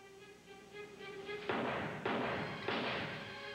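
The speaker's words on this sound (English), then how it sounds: "that's gunfire." Three heavy, booming shots ring out at even intervals against a low background hum, each with a short rumbling decay.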